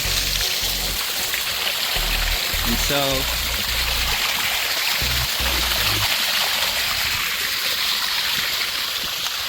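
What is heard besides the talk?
water rushing into submerged dam drainage pipe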